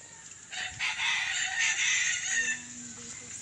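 A rooster crows once, loud and fairly close, its drawn-out call rising and falling over a quiet outdoor background.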